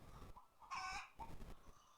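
Laying hens in a farm building housing up to 2000 birds cluck and squawk, one loud rising cackle standing out over a background of nearby murmuring calls.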